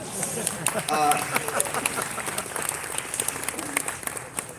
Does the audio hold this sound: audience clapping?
yes